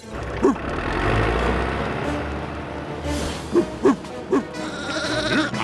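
A cartoon sheep bleats several short, loud times in quick succession on a snowy ski island, over music and a low rumbling background.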